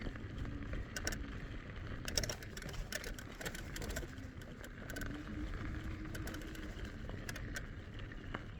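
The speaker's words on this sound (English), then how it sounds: "Definitely have a lot of rattles on this Okai." An Okai ES800 Panther electric scooter rattles steadily while riding, with a continuous low road rumble and repeated sharp clatters from loose parts, fairly faint throughout.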